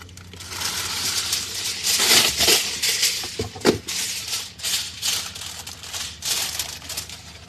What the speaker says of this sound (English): I need to cover these with some tin foil